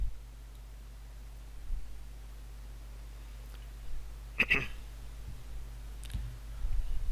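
A computer mouse clicks once on an install button, a single short, sharp click over a quiet room hum, with a few fainter ticks around it and no voices.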